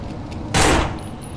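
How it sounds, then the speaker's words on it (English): A single sharp gunshot burst rings out in the zombie survival video game No Room In Hell, loud and brief against a background of game ambience. "I'm trying to shoot the gasoline."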